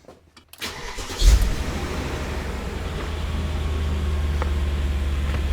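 BMW E39 M5 engine cranking and catching, a brief starter whir followed by a burst of revs that settles into a steady, deep idle rumble close by.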